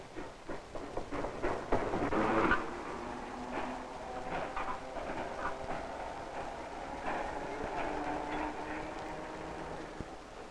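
A 1940s Norwegian freight train rumbles and rattles steadily, with clattering wheel noise and a burst of louder clanking early on, moderately distant.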